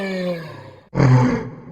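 A video game monster vocalization built from a human voice blended with tiger, lion and rhino recordings and processed in Pro Tools: a short growl, a brief gap, then a louder, rough roar that swells and fades.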